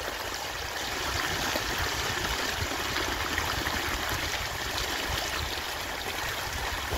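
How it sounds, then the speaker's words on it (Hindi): Irrigation water running steadily through a wheat field under full pressure, a continuous broadband rush and trickle with no voices, holding an even level throughout. "देख सकते हैं पानी किस तरीके से चल रहा है"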